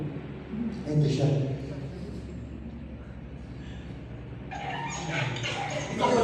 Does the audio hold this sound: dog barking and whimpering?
yes